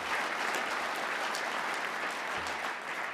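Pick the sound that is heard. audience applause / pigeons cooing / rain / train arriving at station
audience applause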